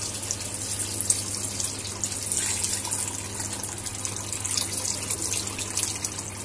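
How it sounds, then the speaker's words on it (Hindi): Soup pours steadily into a pot of cooking goat head, giving a continuous rushing, splashing liquid sound that stays close and fairly loud throughout. "अब हमने इसमें ये जो सूप है यही ऐड करना है"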